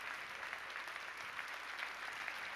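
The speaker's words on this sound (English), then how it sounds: "Give him a huge round of applause." Audience at an Isagenix 2014 training event gives a sustained round of applause, a steady, even clapping texture from a large crowd throughout.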